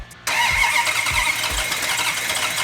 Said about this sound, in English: when you fire one of these engines up